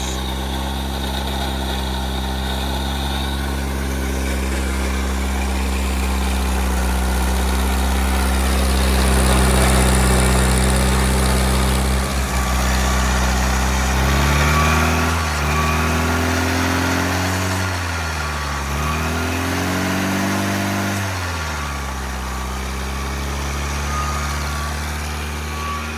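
An old Ford Pinto engine, started after sitting for months, idles steadily for the whole clip with a loud, high alternator whine riding on the low rumble.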